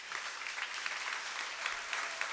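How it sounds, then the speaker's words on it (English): Steady audience applause at an awards breakfast, a dense even patter of many hands clapping throughout at moderate level, with no talking over it. "I thought that might get applause."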